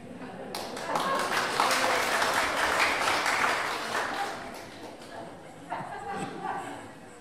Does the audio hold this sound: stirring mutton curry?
no